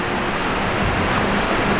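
Steady rain falling on a surface, with a low rumble of thunder underneath, continuous and fairly loud throughout.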